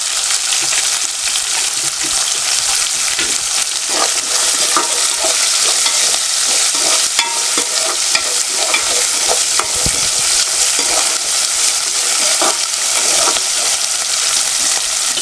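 Onions stir-fry loudly in a hot pan for a village-style broad bean and tomato curry, giving a constant bright sizzle broken by repeated scraping and clinking of the spatula, with no talk.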